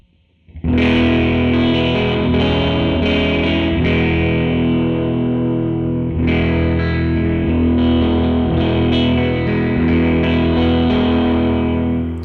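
Electric guitar chords through a Death By Audio Disturbance pedal ring out with a sweeping, swirling phaser effect, loud and continuous, restruck once midway.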